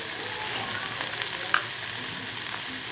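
Spices frying in a pan for coriander green chutney, cooked until lightly golden: a steady, close hiss of sizzling oil with one brief clink midway.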